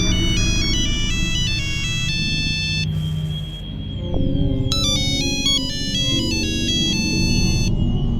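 A phone ringtone plays loudly in a quiet room, a repeating melody of bright electronic tones that pauses briefly and then resumes over a low background hum.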